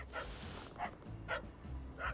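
Short, soft barks from a dog in the game Little Kitty, Big City, four quick yips spaced roughly half a second apart over quiet background ambience.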